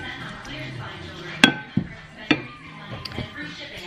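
A utensil stirs a handful of pulled pork in a pan, giving a few sharp knocks and clinks against the metal over a quiet, soft shuffling background.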